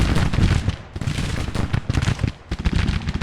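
Dense rifle volleys and scattered musket shots from a Civil War battle in a strategy game, loud and continuous crackling fire with overlapping bursts throughout, no voices.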